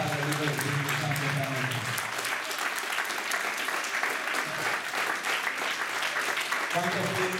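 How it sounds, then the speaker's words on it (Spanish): A church congregation at a Sunday pastors' conference in Mexicali claps together in sustained, loud applause, with a voice speaking over the start and end of the clapping. "vamos a darle un aplauso fuerte al Padre, al Hijo y al Espíritu Santo"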